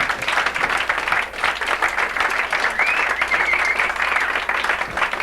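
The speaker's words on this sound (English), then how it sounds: "let's have a big round of applause for Matt Owens and all his helpers." A big round of applause from the audience at an orchid show fills the room, dense and sustained clapping at full strength with a brief dip partway through, with no talking over it.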